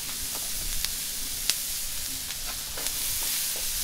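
Chopped white onions and vegetables sizzle on a Blackstone griddle at medium-high heat, a steady close frying hiss broken by occasional sharp crackles and pops.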